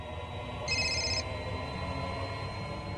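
A telephone gives a single short electronic ring, a bright trilling tone lasting about half a second over a quiet background hum.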